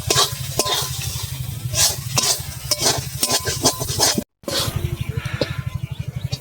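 Loitta fish dry-fried in a wok until it sticks, with a quick rhythmic run of spatula scrapes and stirs over a low sizzle, briefly cutting out before the brisk scraping resumes.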